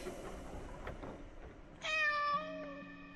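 A cat in the horror game Layers of Fear lets out a single clear, drawn-out meow after a stretch of faint ambient game noise, moderately loud and with no voices.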